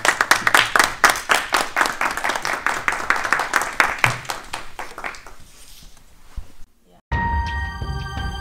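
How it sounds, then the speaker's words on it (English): An audience claps steadily, the applause thick at first and gradually thinning and fading over about six seconds, followed by a short silence and then a different room tone. "Let's give it a hand of applause."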